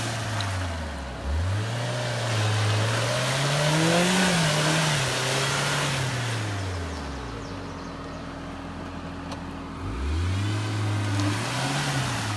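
A Mitsubishi Pajero Mini drives off-road through mud on all-terrain tyres, its small engine repeatedly revving up and dropping back in surging waves, fairly close and steady, with no voices.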